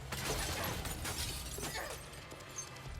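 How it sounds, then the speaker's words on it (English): Glass shattering in a horror-movie trap scene, with a dense burst of breaking and scattering shards that carries on for a few seconds at a fairly loud level. "Breaking the glass,"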